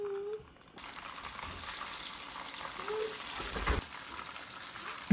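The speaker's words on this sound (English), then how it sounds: "We'll also fry it until it is nice and golden brown." Whiting fish fillets frying in hot oil: a steady, fairly quiet sizzle and crackle that runs almost the whole time after a brief quiet start, with a louder splash of bubbling near the end.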